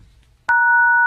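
A telephone call-connecting tone on a Korean phone line: after a short quiet gap, a loud steady two-pitch electronic tone begins abruptly and holds unbroken to the end, with no voices over it.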